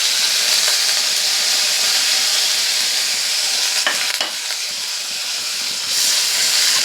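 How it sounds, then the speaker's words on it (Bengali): Onions and green chillies frying in hot oil with bay leaves give a loud, steady sizzling hiss that runs throughout, broken by a few faint scrapes of stirring. "পেঁয়াজ কাঁচা লঙ্কাটাকে ভালো করে ভেজে নেব।"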